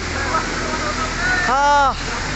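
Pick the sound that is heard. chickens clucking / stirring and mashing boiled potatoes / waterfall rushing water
waterfall rushing water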